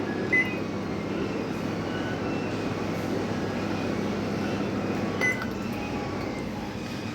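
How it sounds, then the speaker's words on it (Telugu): Oven running in convection mode at 180 degrees, a steady low fan hum and whir throughout, with a couple of short electronic beeps near the start and a few seconds later. "కన్వెక్షన్ మోడ్లోకి వెళ్ళి one eighty degrees twenty minutes పెట్టుకొని స్టార్ట్ చేయాలండి"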